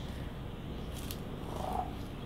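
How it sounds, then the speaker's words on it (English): A deaf cat's very loud purr rumbles steadily and close, a continuous low vibrating drone with faint brief rustles over it and no talking. "she has an incredibly loud purr"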